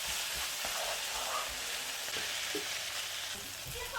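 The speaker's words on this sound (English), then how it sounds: "As you can see, it's sauteed really well now" Tomatoes and chilies sauté in a pan for olive and mint chicken, giving a steady low sizzle for several seconds with scattered soft stirring clicks and no voices.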